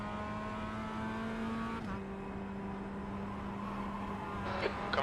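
A BMW GT3 race car in the iRacing sim holds a steady, droning engine note at near-constant revs, with a brief shift around two seconds and a slight rise near the end.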